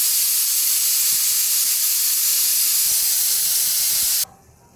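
Loud, continuous steam hiss from a pressure cooker releasing pressure while cooking a bean and potato curry, a bright sustained jet that cuts off abruptly near the end, leaving quiet room noise.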